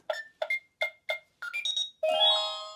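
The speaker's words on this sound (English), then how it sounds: "if you try to jiggle the door, try to break in, I guess, the alarm goes off." A toy door alarm on an American Girl x KidKraft luxury dollhouse sounds a series of sharp electronic beeps, several evenly spaced chirps, then a quick rising run of tones ending in a longer sustained ring, close and clear.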